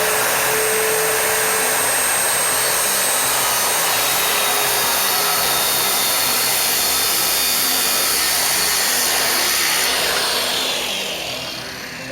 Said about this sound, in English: I'm going to start up my circular saw.